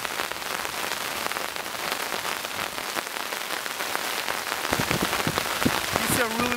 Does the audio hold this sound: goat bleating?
no